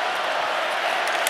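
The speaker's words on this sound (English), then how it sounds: "Crowd trying to get things going." Crowd at an NHL hockey arena, Calgary Flames hosting Nashville Predators, rumbles as a broad, steady wash of noise, with a few brief louder swells.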